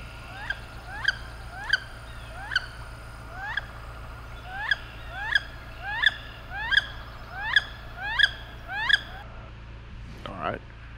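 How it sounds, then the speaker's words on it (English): Wood duck hen calls on the water, reproduced on a DC call: a string of about a dozen short, rising squeals in a steady rhythm, loud and close, with no talking. "the wood duck hen, the most basic sound that you're going to hear her make on the water"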